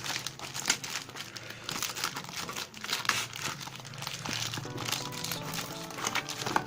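A compact folding pocket knife slices through packing tape on cardboard, giving continuous close crinkling and tearing rustle with small crackles.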